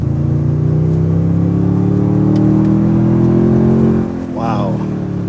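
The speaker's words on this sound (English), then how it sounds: "Definitely a pretty high revving engine." A Toyota Tundra TRD Pro pickup truck engine revs up loudly with a sustained rising drone, then drops off near the end, leaving a quieter idle.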